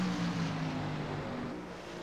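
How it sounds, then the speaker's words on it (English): Race car engines in a sim racing game at New Hampshire cut off to save fuel: a steady, moderate engine drone whose tonal hum fades out partway through, leaving a softer rushing background. "Actually, I'm hearing the engine flick off."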